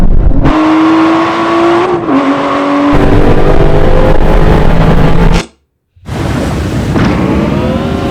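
An Aston Martin race car in a drag race, its engine loud and close, rising through gears with a sharp drop in between, then cutting out briefly before roaring back.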